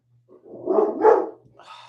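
Lily, a pet dog, lets out a single close, rough bark that swells and trails off, with a softer sound just after and no talking.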